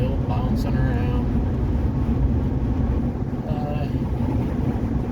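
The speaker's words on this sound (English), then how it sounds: "This truck's kind of loud." A truck's engine runs loudly while driving, a steady low rumble filling the whole stretch.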